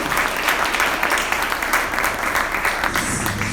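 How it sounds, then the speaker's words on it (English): A panel-discussion audience applauds young mobeds with steady, moderately close clapping that fills the whole moment, with a faint voice underneath. "I really want to give you another hand of applause for doing that"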